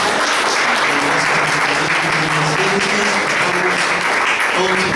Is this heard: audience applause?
yes